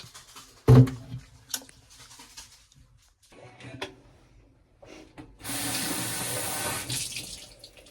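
A reusable water bottle being refilled at a tap on a trip to Paris: a few clunks and handling knocks, then a steady hissing rush of running water near the end, close and moderately loud.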